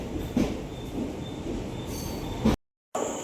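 Konkan Kanya Express train pulling into a station in the Konkan region: steady rumbling rail noise with faint wheel squeal and clatter, then a brief cut to silence before the rumble resumes.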